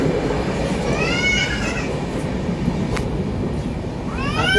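A passenger train rolls along the tracks in India with a continuous rumbling clatter heard from inside, with faint squealing tones rising and falling over the noise.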